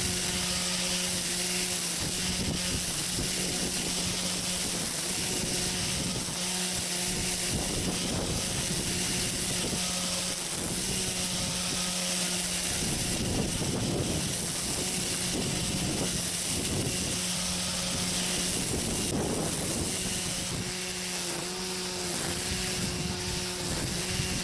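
EGO 16-inch battery string trimmer running continuously outdoors with a steady electric whine and humming drone, fluctuating slightly as it cuts grass, with no voices.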